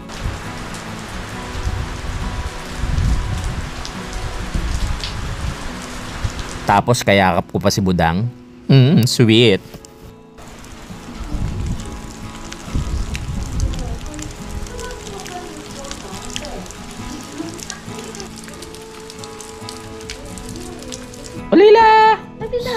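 Steady rain patters outside through most of the stretch, a soft continuous wash under close indoor talk and a television playing.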